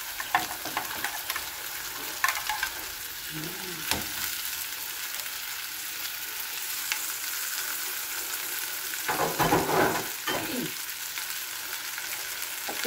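Pork chop frying in a pan with garlic, a continuous hissing sizzle broken by several scraping stirs of a utensil against the pan, close and fairly loud.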